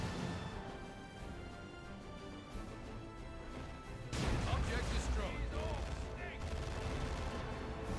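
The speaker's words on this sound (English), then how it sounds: "Tank busters, rocket barrage, almost finishing off the Chimera" Rocket barrage explosions in Dawn of War 2: Retribution hit an Imperial Guard Chimera. Scattered crackling game noise gives way to a sudden loud burst of blasts and crashes around midway, with a commentator talking throughout.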